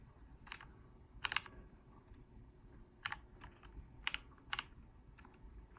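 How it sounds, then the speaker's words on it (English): Keys clatter on a computer keyboard in short irregular bursts at close range, with no one talking. "I just type in benchmark."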